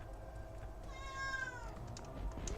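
A house cat gives one clear, drawn-out meow at moderate volume over a low background hum, heard alone without talking.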